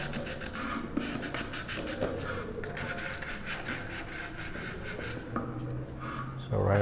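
A wooden tissue box is sanded by hand with 400-grit sandpaper, producing a soft, continuous rubbing scratch in quick back-and-forth strokes, faint and close, with a voice briefly at the end.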